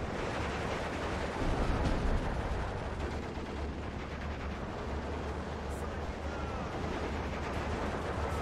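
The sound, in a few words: incoming gunfire and artillery in the video game Steel Division 2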